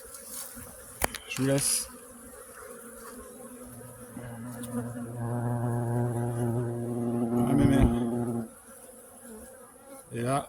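Honeybees droning around hives at an apiary in late October, a steady mid-pitched buzz swelling and fading as insects fly close to the microphone, with a short spoken phrase early on and outdoor background noise.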